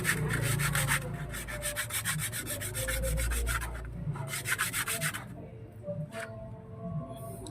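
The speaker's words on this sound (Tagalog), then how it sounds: "Lihain ko muna itong mga boss" Close, scratchy back-and-forth rubbing as a Honda Click 125i magneto is sanded or filed clean, heard in repeated rhythmic strokes with short pauses between bursts and no talking.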